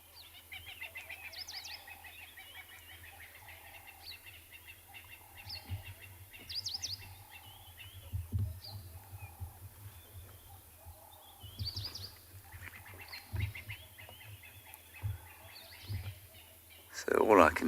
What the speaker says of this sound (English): all I can hear is a few francolins, doves, and lovely hornbills as well